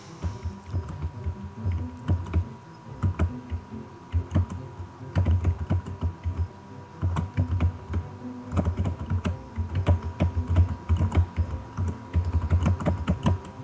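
Loud, rapid computer keyboard typing during an online Tetris game, close-up clattering keystrokes in uneven bursts and short pauses, with a faint hum underneath and no talking.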